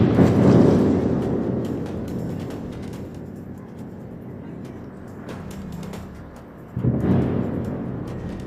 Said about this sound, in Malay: Satu letupan yang sangat kuat di loji penapisan minyak Moskow